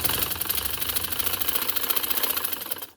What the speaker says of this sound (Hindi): अब मैं इसको सिलाई देती हूँ